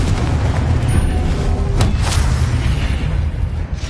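A Confringo spell explosion in the video game Hogwarts Legacy, a loud booming blast with a sharp crack near the middle, set against a steady rumbling background of combat noise.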